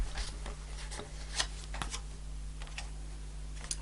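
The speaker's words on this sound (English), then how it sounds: "I'm going to pull one more card to go with this." Tarot cards riffle and slide together in a soft, papery shuffle with a few sharper flicks and taps, close up and steady for several seconds, no voices.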